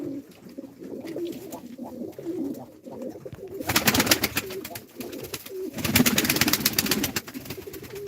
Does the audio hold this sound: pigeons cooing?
yes